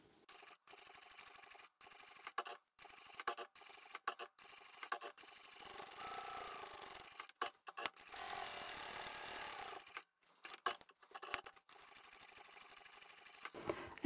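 A sewing machine stitches two pieces of fabric for a glasses case, running beside a curved edge in short bursts with pauses between, fairly quiet and close, with no talking.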